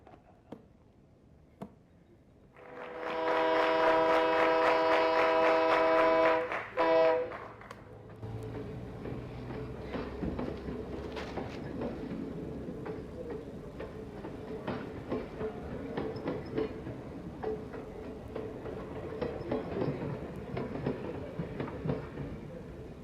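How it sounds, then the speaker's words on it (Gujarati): Stage sound effect of a moving train for a one-act Gujarati drama competition play, a loud steady rumbling chug for a few seconds that cuts off sharply, then lower rolling train noise continuing underneath. "The train is in motion."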